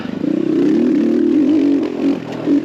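An X Pro Templar 250cc dirt bike accelerates on a trail under rolling throttle, its engine a close, steady rasping drone that swells and dips slightly, with some mechanical clatter and no talking.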